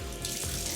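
Tap water runs steadily into a bathroom sink while a face is rinsed, a close, continuous splashing hiss with no talk.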